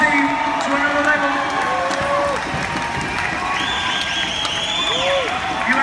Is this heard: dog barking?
no